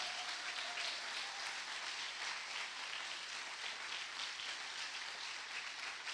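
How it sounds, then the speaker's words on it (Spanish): Congregation applauding during a church service, a sustained wash of many hands clapping, even and fairly distant, faint overall and continuing without a break. "que se escuche tu aplauso en el cielo"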